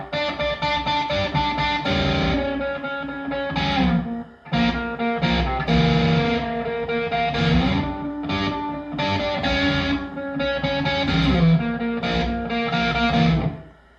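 Distorted electric guitar riffing with a short, tight reverb tail, steady and fairly loud throughout with brief gaps between phrases, no voices.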